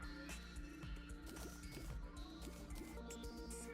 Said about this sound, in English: and then drain the water.